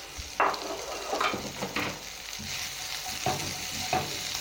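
Halved large capsicum is stir-fried in a pan over a medium-low flame for fajita pizza. A soft, continuous sizzle is broken by several sharp scraping strokes of a spatula against the pan.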